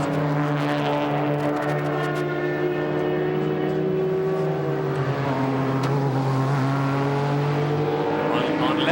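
A Ferrari race car engine drones loudly at the 1998 Petit Le Mans endurance race, a steady sustained howl that shifts slightly in pitch as it passes, with commentary-style broadcast ambience underneath.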